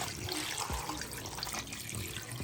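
Tap water runs steadily into the inner pot of a new Instant Pot being set up to pressure-cook beef bulalo, a continuous close splashing flow with no talk over it.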